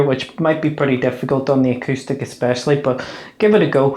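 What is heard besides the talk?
No distinct noise like a dog, phone or traffic.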